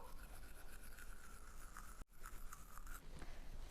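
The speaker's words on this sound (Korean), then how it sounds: "칫솔질을 해야 합니다" A toothbrush scrubs the back teeth in small circles with the mouth only slightly open: a soft, close, continuous bristly swishing with one brief pause midway.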